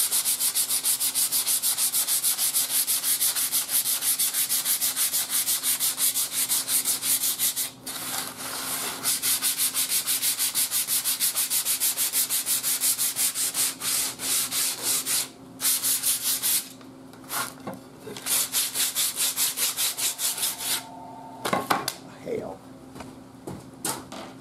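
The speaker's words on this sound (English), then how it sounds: "I'm going to just go ahead and sand it a little." Hand sanding of wood while building a tube-amplified crystal radio, a steady scratchy rubbing that runs nearly nonstop, close and fairly loud, with a few short pauses and strokes near the end and some talk.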